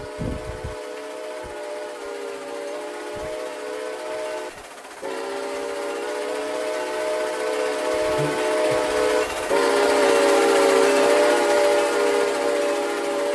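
A long, loud steam train whistle from the Atchison Topeka & Santa Fe 3751 locomotive in a video game sounds steadily and swells louder near the end, with rumbling wheel noise underneath.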